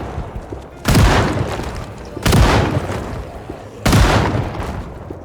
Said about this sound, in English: Let's witness the power of the shotgun